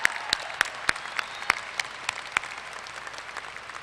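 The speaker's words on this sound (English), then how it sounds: "So let's give him a round of applause." A commencement audience applauds, a moderate wash of crowd clapping with a few sharp, evenly spaced claps close by, heard steadily without talk.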